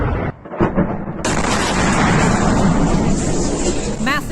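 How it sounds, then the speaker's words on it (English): A massive explosion reported at a Russian FSB officers' headquarters sets off a loud, sustained roaring rumble after a brief quieter opening, filling the clip to the end with dense blast noise and no voices. "Massive detonation."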